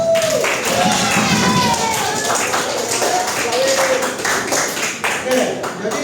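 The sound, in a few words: classroom applause for group 3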